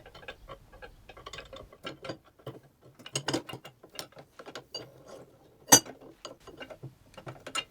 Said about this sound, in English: Here I'm adjusting the ratchet nut because the tension, once it was assembled and put together, the tension didn't feel right